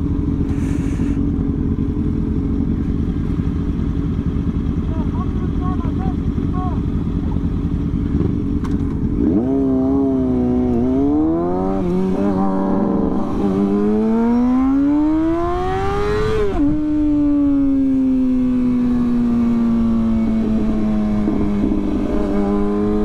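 Sport motorcycles out on a weekend ride, with a loud, steady engine drone before rising revs climb through repeated gear shifts, the pitch sweeping up and settling into a high cruising whine, close and continuous.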